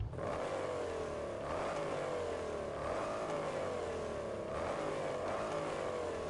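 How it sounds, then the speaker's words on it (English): Car engine revving in the racing game Test Drive Solo on PS5, a loud sustained roar rising in repeated sweeping waves as the revs climb and drop, heard alone. "This is how a car should sound."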